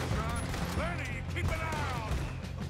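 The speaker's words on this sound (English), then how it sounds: "Oh, I'm dodging all the shots." Gunfire from the Red Dead Redemption 2 video game rings out in a steady stream of shots under continuous game sound and music, with bursts spread through the whole stretch.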